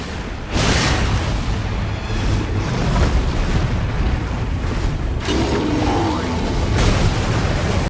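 Heavy booming blasts from a human missile attack in Elden Ring Nightreign, several loud thuds and bursts over a rumbling game soundscape, near and forceful.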